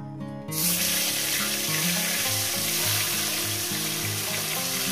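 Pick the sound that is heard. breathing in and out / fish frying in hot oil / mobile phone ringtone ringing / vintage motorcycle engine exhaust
fish frying in hot oil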